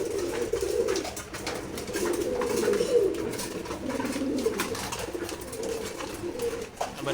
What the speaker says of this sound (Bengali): এটা নর কবুতর খাবার খাচ্ছে।